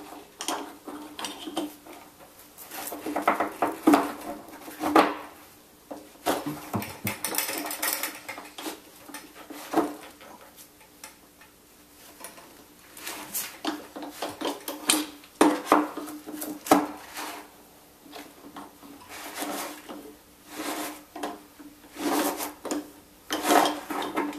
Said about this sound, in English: Take your screwdriver, put it in the end of the element wrench, and turn it counterclockwise.